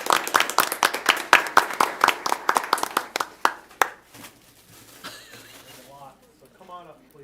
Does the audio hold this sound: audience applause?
yes